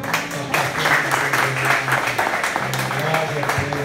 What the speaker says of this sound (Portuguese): Vamos dar uma salva de palmas também?